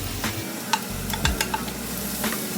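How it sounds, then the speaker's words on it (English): Garlic and ginger fry with onions in a hot pan for a Filipino-style mapo tofu, making a steady close sizzle punctuated by a few light taps and scrapes of a stirring utensil. "Next, we'll add our garlic and ginger."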